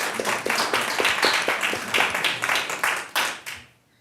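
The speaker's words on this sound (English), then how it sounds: "I just think that deserves a round of applause." An audience at a public college district board meeting claps with brisk, fairly dense clapping for about three and a half seconds before it quickly dies away.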